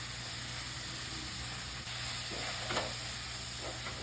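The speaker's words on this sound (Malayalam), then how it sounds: "പച്ചമണം മാറുന്ന വരെ ഒന്ന് ഇളക്കി കൊടുക്കണം." Chili, coriander and turmeric powders, with ground roasted fenugreek, fry in a pan for drumstick-leaf sambar, a steady soft sizzle and hiss broken by a few light stirring scrapes, alone and close.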